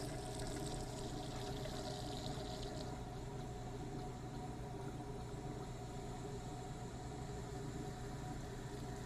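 Hot water runs steadily from a tap, a continuous splashing rush that stays even for about nine seconds with no talking.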